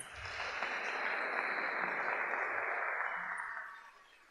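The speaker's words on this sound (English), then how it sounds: "Please give them a round of applause." Faint, distant audience applause at a middle school graduation swells into a soft, even hiss of clapping, holds for a few seconds, then tapers away.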